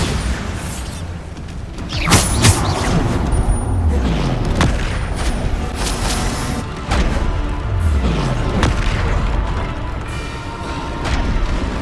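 Bombarda blasting spell explosions in Hogwarts Legacy, a chaotic battle of repeated booms and impacts, several loud blasts spaced irregularly over continuous combat noise and mechanical clatter.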